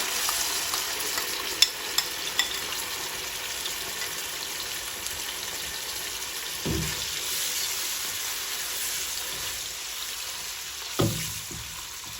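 Onion paste frying in hot oil, steady close sizzle throughout with a few scraping stirs and light clinks of a spoon against the pan, no talking.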